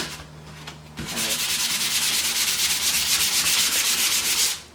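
After a brief pause, sandpaper rubs rapidly back and forth across a wooden picture frame by hand in a fast, even rhythm, loud and close, then stops.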